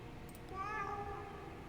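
A faint single meow from the tugboat cat in Kentucky Route Zero, rising and falling over a low background hum, somewhat distant and brief.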